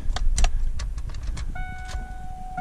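The key turns in the ignition of a 1993 Ford Bronco with a few metallic clicks and jingles. A steady electronic chime then rises and holds over a low background rumble, close and with no speech.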